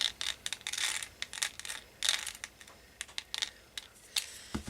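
Coarse sea salt crystals scattered by hand onto a wet, sprayed art journal page, landing as quick irregular ticks and light patters in short bursts, close and fairly quiet with no voice.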